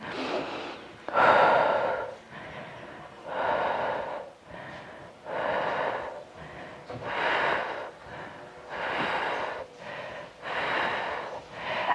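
Heavy rhythmic breathing during a Pilates back-of-the-body workout, with about seven loud, close exhales and inhales in a steady cycle and no talking.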